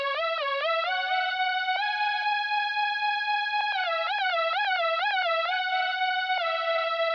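A bright synth lead plays a melody of quick stepping notes and longer held tones, loud and clean with no drums or voices.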